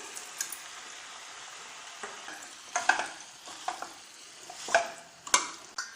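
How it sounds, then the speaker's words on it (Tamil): Pieces of meat and radish fry in a pan, a soft continuous sizzle broken by intermittent clatters and scrapes of stirring, close and fairly quiet. "இந்த கறியும் முள்ளங்கியும் ஒரு 2 நிமிடம் அளவுக்கு இப்படியே வெந்து வரட்டும்"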